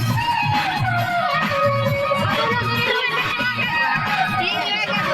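Dense crowd murmur at a busy evening market in Pakur, Jharkhand, with overlapping voices and children's shouts forming a steady, loud wash throughout.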